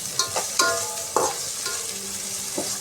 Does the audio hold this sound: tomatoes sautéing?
yes